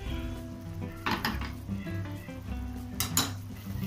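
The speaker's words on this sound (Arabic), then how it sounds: "هضيف جزء من التومة دي للصلصة واسيبها تكمل تسبيكتها على النار" Garlic sizzles in koshari tomato sauce in a pot on the stove, a soft steady frying hiss with a couple of clinks of a utensil against the pan.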